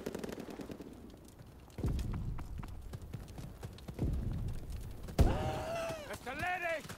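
Machine gun fire in the World War II shooter Call of Duty: WWII, rapid bursts of rattling shots in several strings, loud and close, followed by a sharp blast and whistling, with voices partly over the gunfire.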